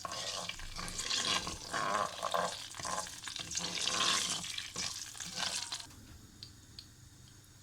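Vermicelli is stirred and toasted in hot oil in a pan, with irregular scraping and bubbling sizzle that comes and goes at moderate level, then eases into a quieter crackle at the end.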